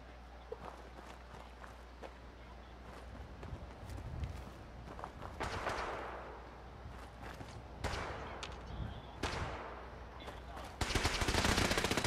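Gunfire crackles in Fallout 4 as rapid bursts of shots ring out amid footsteps and other game noise, fairly faint, ending in a loud sustained volley.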